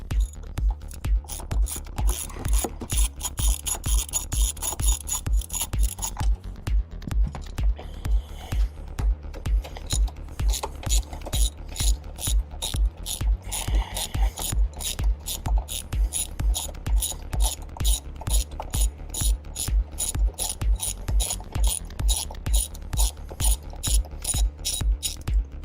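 A ratchet wrench clicking steadily and fast while loosening T40 Torx seat belt bolts inside a 2012 Mercedes ML, close and loud, repeating through the whole stretch with no talking.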